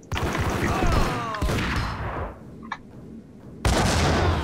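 Gunfire in the video game Max Payne: dense bursts of shots and booms, loud and close, with a brief lull before another sudden burst.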